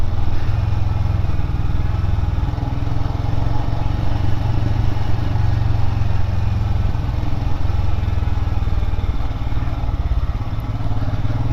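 A 2021 Royal Enfield Himalayan motorcycle rides along a road, its engine a steady, loud low drone with a constant rumble and wind noise throughout.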